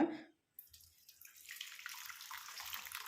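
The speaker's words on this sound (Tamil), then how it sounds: "அடுத்து நம்ம டிக்காஷனை வந்து நம்ம வடிகட்டி எடுத்துக்கலாம்" A herbal hair-dye decoction is strained, and the liquid pours steadily and close by after a short silence, with a soft splashing hiss that carries through to the end.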